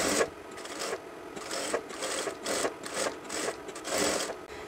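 A sewing machine stitches the neckline seam of a round-neck maxi dress, its steady whirring running in bursts with short pauses between, close and fairly loud, with no talk.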